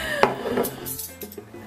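A cooking pot of brown rice pelau being covered, with a brief metallic clink of the lid followed by soft scraping and rattling, close and fairly quiet.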